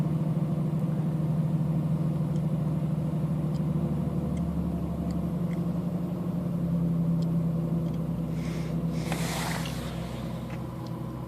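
A car engine idles steadily while warming up after a Volo VP12 performance chip install, a constant low rumble with a faint hiss and a brief rustle near the end.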